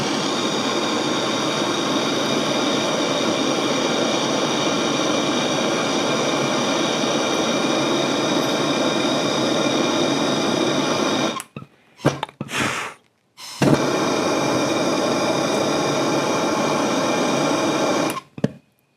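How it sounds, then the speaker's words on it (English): A high-speed grinder whines steadily against a Keihin carburetor body, loud and continuous, then briefly cuts out and restarts a couple of times before running on and stopping. "Except for the fact we're gonna probably melt our grinder."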